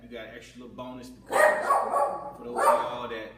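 A pet dog named Suki barks a few times in short yappy bursts close by, while someone talks over the barking.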